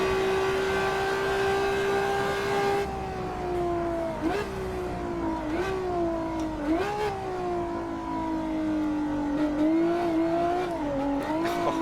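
A Ferrari F50 engine in the Assetto Corsa racing game holds a loud, steady howl that rises and dips with throttle and gear changes while the car exits the second Rivazza corner under heavy opposite lock.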